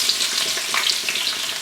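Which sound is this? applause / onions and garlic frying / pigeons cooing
onions and garlic frying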